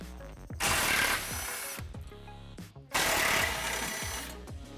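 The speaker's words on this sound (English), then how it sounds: "We're going to start off by removing these two 15 millimeter bolts right here." A power tool buzzes in two loud bursts, each lasting about a second, while removing 15 mm rear cross member bolts on a Chevrolet Silverado during a Fabtech 6-inch lift kit install, with brief quieter mechanical clatter between.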